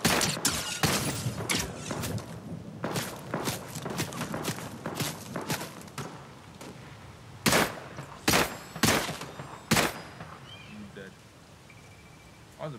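Gunfire in Fortnite comes as a string of sharp, loud shots, some grouped in quick bursts and others spaced apart, over faint background game noise.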